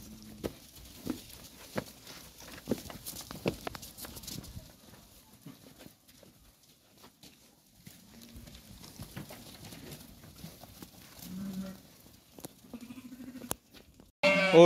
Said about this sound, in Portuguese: um lote maior de ovelha aqui